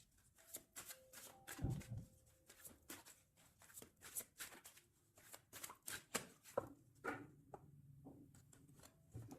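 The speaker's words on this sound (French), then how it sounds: "Je vais faire une petite coupe pour avoir un message." A deck of tarot cards being cut and shuffled by hand, a rapid run of soft riffling and tapping card sounds, close and quiet, with no speech.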